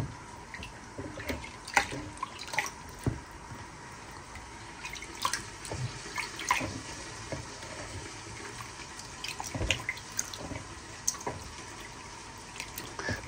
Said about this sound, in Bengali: দুই তিনবার করে ধুয়ে নিতে হবে